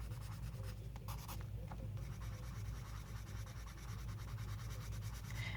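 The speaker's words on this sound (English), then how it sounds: "you're going to use this blender pencil to blend the colors together." A colorless blender pencil rubs over layered colored pencil on coloring-book paper in steady, soft, close scratchy strokes, with a low hum beneath.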